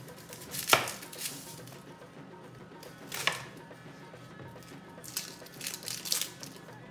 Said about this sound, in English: I'm going to cut the Vietnamese cilantro.